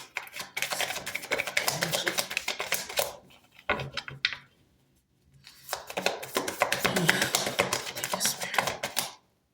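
A deck of tarot cards being shuffled by hand: rapid dense riffling bursts, a short pause and a few taps, then another long riffle, close up with no talk.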